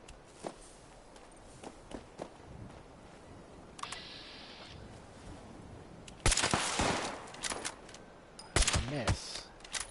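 Gunfire in Fallout 76, a few sharp shots going off in quick bursts in the second half, after scattered footsteps and light game sounds, fairly close and moderately loud.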